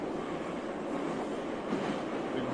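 A constant, loud rumbling roar of a metro train in motion, heard from inside, broad and unbroken, with no speech.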